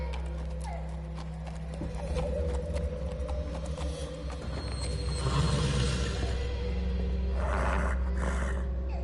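Horse hooves clip-clop steadily in the video game The Walking Dead, a rhythmic trot heard at moderate distance over a low ambient drone, with a brief whinny-like swell toward the end.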